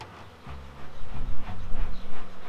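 Honeybees buzzing around an open beehive during an inspection, a dense, steady drone with a low hum rising and swelling, close and loud with no talking.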